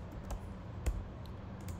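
A computer keyboard sounds faintly in a quiet online class, a few scattered key clicks with one sharper tap near the middle.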